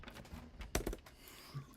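Quiet, rapid clicking of fingers typing on a computer keyboard, with a sharper cluster of keystrokes near the middle and no talking.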